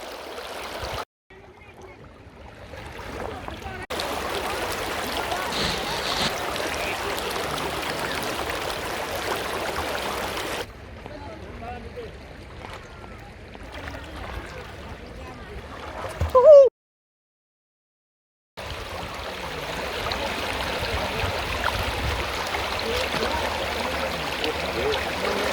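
Fresh river water flows over stones at Sada Pathor in Bholaganj, Sylhet, Bangladesh, a steady broad rush broken by abrupt silent gaps, with voices now and then.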